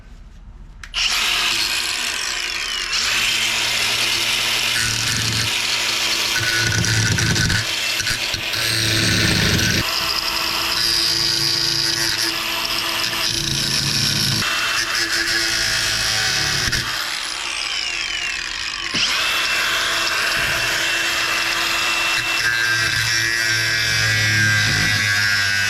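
Power tool trimming a metal part of an Icon lift kit on a Bronco, a loud continuous grinding whine with changing pitch as it cuts, close by and nearly alone.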